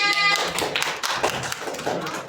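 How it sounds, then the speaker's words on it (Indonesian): A short burst of applause from a classroom group during a micro-teaching lesson, many hands clapping quickly and unevenly, close by. "Beri tepuk tangan."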